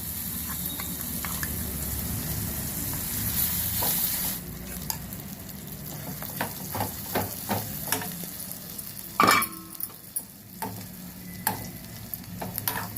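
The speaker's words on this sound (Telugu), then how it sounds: "ఇప్పుడు ఈ పోపు దీంట్లోకి వేసేస్తాను." A strong sizzle of tempering hitting hot oil, loud at first, then settling into softer crackles with scattered pops and a few stirring clinks.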